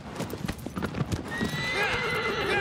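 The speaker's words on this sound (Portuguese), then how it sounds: "segurando R1, ó, é muito mais fácil de conseguir guiar o cavalo" Galloping horse hooves in the PS4 version of Shadow of the Colossus, a rapid loud clip-clop rhythm that gives way to a steady rushing ride with a bright whinny-like tone at the end; no talking.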